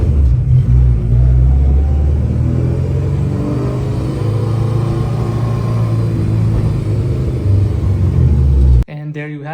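A Honda Civic fitted with an aftermarket shifter drives on a test run, with a loud, rumbling engine that rises and falls in pitch through gears, heard from inside the cabin and cutting off abruptly at the end.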